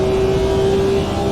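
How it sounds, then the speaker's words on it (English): In the Automobilista 2 racing game, an M1 Procar on the historic 1971 Nordschleife lets out a loud, sustained tyre squeal from locked front wheels, a steady pitched whine over engine rumble, close and alone. "It sounds more like a squeal rather than just increased scrub sound"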